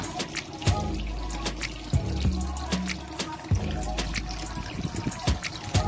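Water trickles and splashes through an aquarium pump transfer system cooling the condenser of a 200-litre drum kiln that makes wood vinegar, with steady dribbling and irregular louder plops and gurgles close by.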